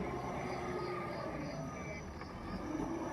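A JCB excavator engine drones steadily while digging soil, a continuous low rumble with a faint whine, with a voice talking over it throughout.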